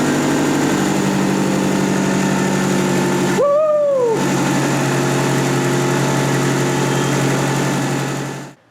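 A turbocharged car engine idles loudly and steadily at close range, a constant low rumbling hum, broken once by a brief whooping voice.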